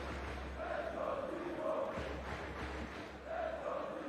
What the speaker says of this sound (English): They've been cheering since the beginning of this match